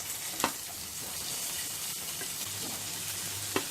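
Ingredients frying in a pan on the stove for ridge gourd peel chutney, a steady low sizzle and stir running throughout, with a couple of sharp clinks from a spoon against the pan.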